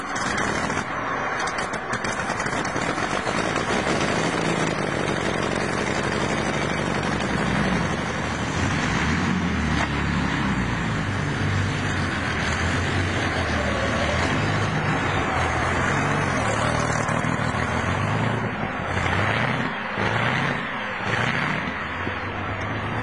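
A Merlin aircraft engine fitted in a 1955 Chevrolet cranks, catches and settles into a heavy, rumbling idle, loud and close throughout with some uneven surges toward the end.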